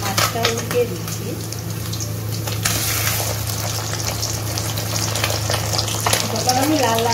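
Kajoli fish frying in a pan in a village kitchen, a steady loud oily sizzle with crackling pops throughout, with occasional stirring and clinks.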